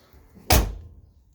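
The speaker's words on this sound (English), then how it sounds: "Doors close really nice. They seal up nice too." A single solid thunk of a 1983 Ford Mustang Fox Body car door shutting, close and loud, with a short fading decay into quiet.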